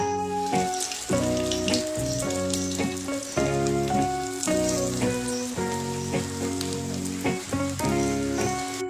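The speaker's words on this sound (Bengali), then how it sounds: "তেল ভালো করে গরম হয়ে গেলে একে একে কাবাবগুলো কড়াইয়ের মধ্যে দিয়ে দেব" Fish egg kebabs frying in hot refined oil in a wok give a loud, continuous crackling sizzle, close up and steady throughout with no talking.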